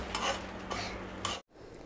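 Cooked bean curry with fresh coconut being scooped from a pan into a bowl, with three soft scraping strokes of a spoon against metal, close and quiet, then a brief cut.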